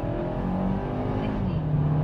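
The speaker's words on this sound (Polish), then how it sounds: "W komforcie normalnie przyspieszam i nie słyszę żadnego świszczenia, buczenia, pierdzenia i nie wiadomo czego" A 2021 Kia ProCeed GT accelerates in comfort mode, giving a smooth, steady engine drone that rises slightly in pitch, heard from inside the car.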